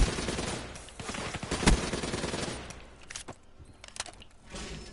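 Rapid gunfire from wall banging in a shooter video game, dense bursts of automatic shots with sharp cracks and short pauses, loud and continuous.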